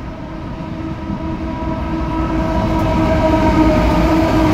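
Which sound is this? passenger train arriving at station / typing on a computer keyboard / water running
passenger train arriving at station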